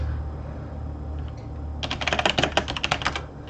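Fingers type on a computer keyboard in a quiet room over a low steady hum, starting partway in as a quick, uneven burst of close, crisp key clicks.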